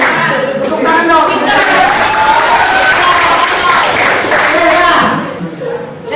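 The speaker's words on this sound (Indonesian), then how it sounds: "Tepuk tangan dong." Classroom students clap their hands together, a loud crowd of overlapping claps with voices and chatter mixed in, fading near the end.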